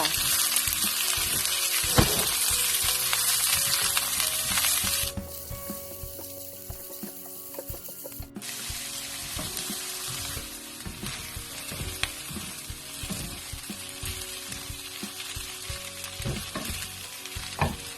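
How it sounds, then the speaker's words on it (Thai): Bean sprouts stir-fried in a hot pan while making Thai crispy fried mussels (hoi tod), loud steady sizzling with scraping stirs; the sizzle drops for a few seconds midway, then returns at full strength. "แล้วจะใส่ถั่วงอกลงไปผัด จะผัดถั่วงอกแค่สลดจ้า"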